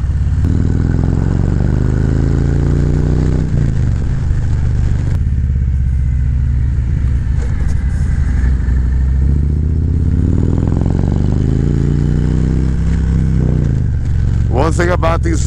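Harley-Davidson Road Glide fitted with Arlen Ness risers, heard from the saddle while riding: a loud, steady engine drone with wind rush, shifts in pitch as the bike speeds up and slows, and a brief rev near the end.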